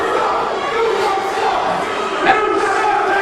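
Wrestling arena crowd roaring in a steady, dense wall of jeers and shouts, sustained and loud throughout with a brief swell near the end, no single voice standing out.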